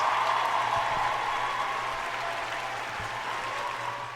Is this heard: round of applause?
yes